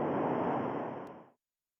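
Synthesizer patch called Seashore imitating crashing waves: a broad, steady wash of noise that swells briefly then fades out after about a second and a half.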